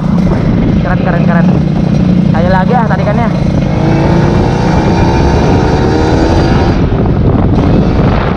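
A restored and modified 2016 Kawasaki Ninja RR revs up, its engine note climbing steadily over strong wind rush. A brief voice is heard early on.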